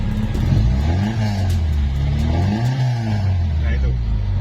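Fiat Mirafiori engine with a racing exhaust blipped twice from idle, each rev swelling into a throaty roar and dropping back to a close, rumbling idle.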